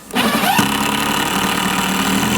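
A power drill bores holes through the side of a rolling shop cabinet, spinning up sharply and then holding a steady, loud, close whine.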